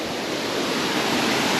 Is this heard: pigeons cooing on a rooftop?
no